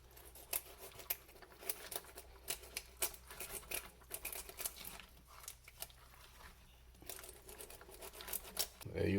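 Small, close cutting and tearing sounds as part of a cooked fish is cut away and removed, with uneven snips, crinkles and soft taps running through the whole stretch and no voice over them.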